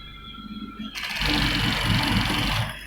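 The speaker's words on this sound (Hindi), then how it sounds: "इस तरह से आपने कॉलर की मुकम्मल सिलाई लगा देनी है।" A sewing machine runs up to a steady whirring stitch as it sews a collar onto a men's kameez, loud and close, with a fainter hum before it starts and no talk.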